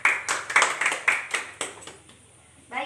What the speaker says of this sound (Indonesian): Beri tepuk tangan juga buat Kak Ella karena sudah menjawab